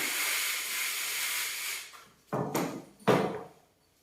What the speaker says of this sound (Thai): เปิดประตู